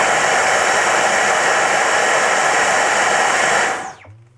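A Dyson V11 Absolute cordless vacuum runs in boost mode with a loud, steady, close rushing whine for nearly four seconds, then cuts off abruptly and winds down.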